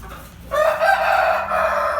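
A rooster lets out a loud, drawn-out crow that starts suddenly and holds for over a second, close by.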